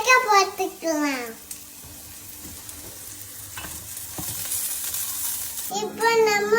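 Onion and chilli frying in a pan give a soft, steady sizzle with some stirring, framed by someone speaking at the start and end.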